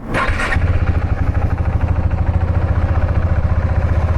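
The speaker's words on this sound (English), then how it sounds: "Riding the Svartpilen, the most fun motorcycle I have ever owned." A Husqvarna Svartpilen motorcycle fires up with a brief starter burst, then settles into a loud, close, steadily pulsing engine run.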